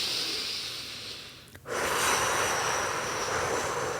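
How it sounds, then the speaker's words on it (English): A slow breath drawn in through the nose and let out through the mouth, a soft airy hiss that dips briefly before a fuller, steady exhale carrying on to the end, close and alone. "In through the nose. And out through the mouth."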